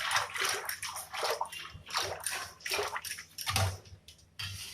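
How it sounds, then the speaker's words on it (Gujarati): Curd and water are churned into buttermilk with a wooden hand churner in a container, producing continuous soft sloshing and swishing liquid pulses with a steady irregular rhythm, close and fairly quiet. "એમાં આપણે 1 વાડકી અને બીજી વાડકી પાણી ઉમેરી અને વલાણીની મદદથી વલોવી લઈશું"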